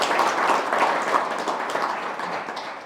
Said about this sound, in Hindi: चलो ताली बजाओ भाई अपने लिए